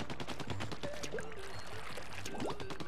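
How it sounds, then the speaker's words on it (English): Continuous ink weapon fire in Splatoon, a rapid, faint stream of wet splattering shots with a few rising game tones over it. "look at how much I'm shooting and look at how much ink I have"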